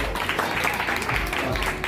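Children clap together for obedient kids at a birthday gathering, a steady, dense patter of applause running through the whole short stretch, with some voices mixed in.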